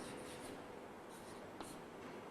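A marker or chalk scrapes across a board during a biology lecture, a continuous, close, scratchy rubbing sound with a few sharper strokes and no speech.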